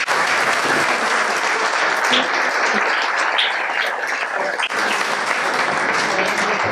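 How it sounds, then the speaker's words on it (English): A crowd at a commissioners candidate forum breaks into sustained applause, dense and loud throughout with scattered voices and cheers mixed in. "Let's give them a round of applause."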